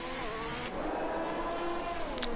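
Onboard engine of a Formula 1 car lapping the Bahrain circuit in a racing video game, a steady high whine with pitch sweeps as it shifts and accelerates, continuous and close throughout.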